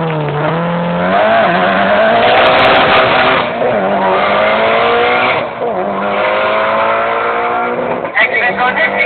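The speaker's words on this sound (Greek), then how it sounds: "Ένα από τα δύο πιο γρήγορα αυτοκίνητα της ημέρας." A fast race car in a quarter-mile drag race roars with a rising, high-revving engine note and tire squeal, loud and close for several seconds, with gear-change dips along the way.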